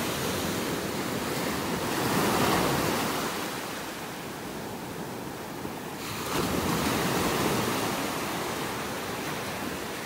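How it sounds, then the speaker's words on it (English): Gulf surf breaks on the beach shore in North Naples, Florida, a broad, continuous rush of crashing waves swelling and easing in slow surges, with wind buffeting the microphone. "listen to those waves crashing. Right in here, they're really breaking on the shore."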